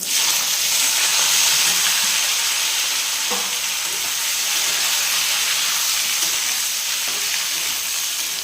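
Figs and potatoes sizzle and hiss loudly in hot oil, a steady crackling fry with occasional soft knocks of stirring.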